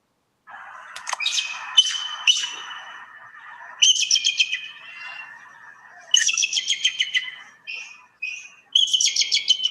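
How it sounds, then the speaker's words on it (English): Bald eagle call: a series of high, thin chirping and twittering bursts in several clustered phrases separated by short pauses, clear and fairly close against a quiet background. "I wound up on YouTube with the real sound of a bald eagle."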